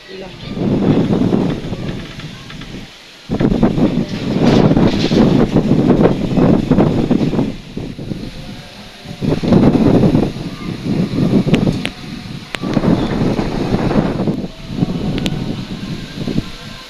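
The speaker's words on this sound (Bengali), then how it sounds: "ঝড় দেখে মনে হচ্ছিল ঘূর্ণিঝড় হচ্ছে মানে ঝড় চলে যেয়ে আবার আসছে মানে থেকে থেকে বাতাস হচ্ছে অনেক জোরে" Strong gusts of a Kalbaishakhi storm buffet the microphone in loud, roaring surges that rise and fall, with rustling and a brief lull early on, and no talk.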